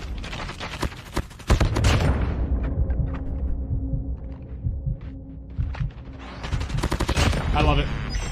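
Gunfire from a weapon in Call of Duty Mobile battle royale, with bursts of rapid shots at the start and again near the end, loud and close, separated by a quieter stretch of game ambience.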